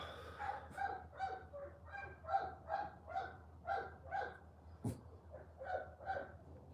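A dog barks repeatedly at a distance in a regular rhythm of about a dozen barks, fairly faint, with a sharp knock partway through.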